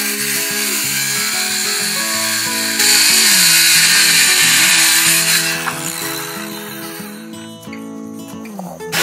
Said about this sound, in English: We're going to be using a circular saw, and so we are clamping the metal ruler onto the side and then just going through it.